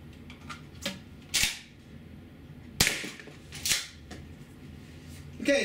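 An APS CAM870 CO2 shotgun fires 0.68 caliber rubber shots, several sharp bursts spaced a second or so apart, close and loud, with mechanical clicks of cycling between shots.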